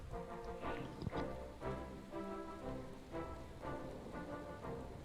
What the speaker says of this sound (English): Fitting weather. Rain.